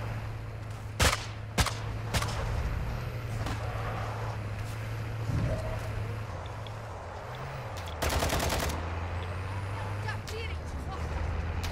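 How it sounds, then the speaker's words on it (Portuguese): Sharp gunshots in Call of Duty Warzone DMZ crack out as isolated reports early on, then a dense rapid burst of automatic fire a few seconds later, over steady low vehicle and ambient rumble while players talk. "Tá atirando daqui, ó."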